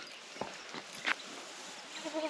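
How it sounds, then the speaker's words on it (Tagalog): A month-old baby goat on a dry, grassy farm gives a few short, thin bleats among light shuffling and rustling, fairly faint and close with no talk. "dito sila kasama yung baby kambing nating isa"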